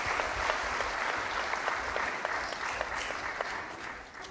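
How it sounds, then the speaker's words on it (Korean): An audience at a university's 110th anniversary ceremony gives steady, sustained applause to four musicians after their performance, a broad wash of many hands that tapers off gradually. "다시 한번 좋은 연주를 들려주신 우리 네 분께 큰 박수로 감사의 뜻을 전해 주십시오"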